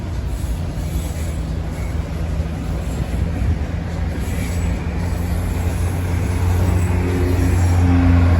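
Union Pacific freight train with distributed power units rolling past in Grand Prairie, Texas: a steady low rumble of wheels and cars that swells slightly louder toward the end, continuous and fairly close, with no talking.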